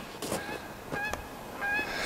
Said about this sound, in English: It's a excited goose.